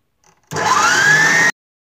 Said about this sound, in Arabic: ضربوه مزيان حتى يتكاتف.